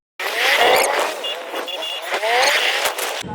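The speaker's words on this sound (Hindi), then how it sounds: "तो बाइक पे चलते हैं मस्जिदपुरे से लेकर" A motorcycle ridden through busy market streets, its engine note rising and falling steadily and close for the whole stretch, with street noise and a brief horn-like tone mixed in.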